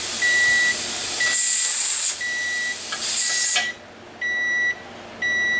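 Electronic kitchen timer beeping in short repeated high tones while meat is being canned, alongside a loud steady hiss of steam from the pressure canner that suddenly drops away partway through.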